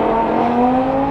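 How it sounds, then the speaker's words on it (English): A supercharged V10 Audi R8 accelerates hard, its engine note climbing in a smooth rising whine with a loud, close roar, alone without talk. "This is gonna be a mildly routine acceleration."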